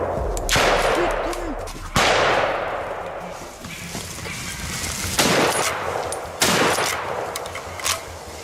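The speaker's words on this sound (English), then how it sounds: "A decisive shot, perfectly precise." Loud, sharp rifle shots ring out during a wild boar hunt in dense woodland. Several close reports are spaced a second or more apart, each followed by a rolling echo, with a jumble of rustling and movement between them.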